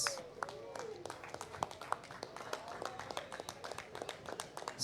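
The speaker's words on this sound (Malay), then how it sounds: "berikan tepukan kepada Shah" Scattered audience clapping for the third-place finisher at a FIM MiniGP Malaysia Series 160cc race prize ceremony, a steady patter of separate claps at moderate distance, with a voice speaking over it throughout.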